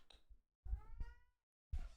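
A pet cat meows insistently at its owner, with three separate loud, close calls, the middle one drawn out and rising in pitch, and short pauses of silence between them.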